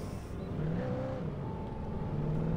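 A truck engine driving in Alan Wake Remastered hums steadily and close, its pitch shifting slightly as it accelerates, with no other sounds.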